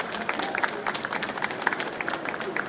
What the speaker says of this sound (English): A round of applause for our performance today,